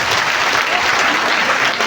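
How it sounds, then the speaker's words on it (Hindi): An audience at an RCM business meeting applauds with dense, continuous clapping that holds steady and loud throughout the short stretch. "उनके भाई साहब के लिए ताली बजाओ यार"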